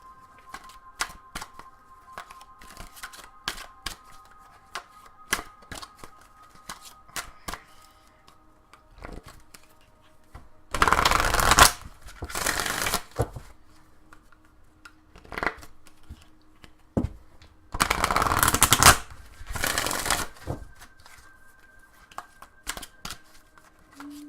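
Oracle cards being shuffled by hand, scattered soft taps and clicks with two louder riffling bursts near the middle, close and fairly quiet.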